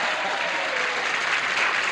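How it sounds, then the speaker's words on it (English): A studio game show audience claps in a dense, even burst of applause, loud and sustained across the short moment. "the red section should give us a round of applause for helping them win"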